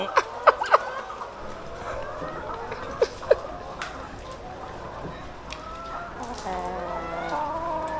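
Laying hens at an egg farm in Suphan Buri, Thailand, cluck and squawk continuously, with sharp calls and a low barnyard hum, close and fairly loud, and a human voice now and then.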